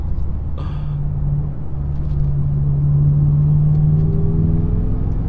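A BMW M6 Gran Coupe accelerating hard on a back road, with a steady deep engine drone that rises in pitch as it pulls through a gear, heard from inside the car, loud and continuous, no talking.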